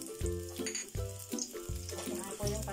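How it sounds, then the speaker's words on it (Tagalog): White onion hits a hot cooking pot, with bursts of sizzling and frying, scraping stir sounds and some clinking as the pieces go in, all close and fairly loud. "lagay na po natin itong sibuyas na puti."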